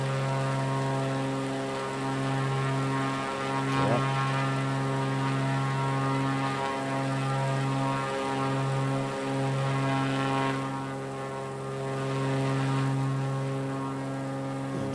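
A propeller airplane engine in Microsoft Flight Simulator drones steadily throughout, flying from Roswell toward Las Vegas. The hum is strong and continuous, and its pitch wavers slightly as the plane climbs over trees.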